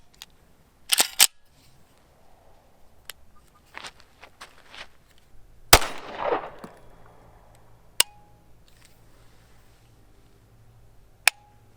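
Sharp, isolated shots from a Glock 19 pistol assembled from an 80% Arms kit, firing at uneven intervals with a loud report near 6 seconds followed by a brief ringing tail, plus a few smaller clicks and handling noises between.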